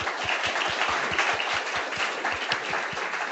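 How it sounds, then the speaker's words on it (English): An audience applauding, a brief burst of steady clapping with individual claps audible at a regular rhythm. "So let's give a big hand of applause."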